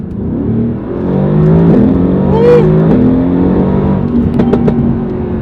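A Mercedes-AMG GT R engine revs hard and climbs in pitch as it accelerates, loud and close, with a brief excited shout over it.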